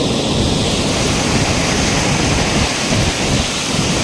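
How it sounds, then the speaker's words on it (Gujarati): Water pouring from an open canal gate into a river at Dantiwada, a loud, continuous broadband rush and roar that stays steady throughout, with no voices. "નહેરની બારી ખુલ્લી છે નદીમાં પોણી જવા છે"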